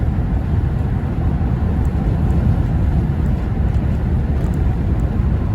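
A 2010 Chevy Avalanche LT truck engine while driving, a steady low rumbling drone with road noise, loud and continuous throughout without talk.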